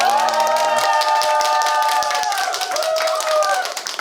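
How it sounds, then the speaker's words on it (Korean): A church crowd claps steadily in welcome at a Christian lecture, dense applause filling the room from start to finish with a few voices and cheers mixed in. "다 같이 시작할 때 박수로 환영하는 시간을 갖도록 하겠습니다."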